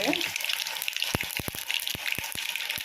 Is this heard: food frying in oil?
yes